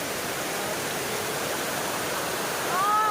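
Water runs steadily in a constant, loud rushing hiss at Baggao Blue Water in Cagayan Valley, near and continuous, with a faint high tone at the end.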